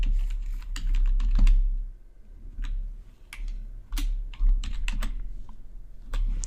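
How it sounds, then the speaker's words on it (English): Fingers type on a computer keyboard in quick bursts of crisp clicking keystrokes with short pauses between, close up, over a low hum and without talking. "So I'm going to type in strawberry."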